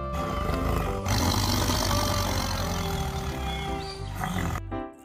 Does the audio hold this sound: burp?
no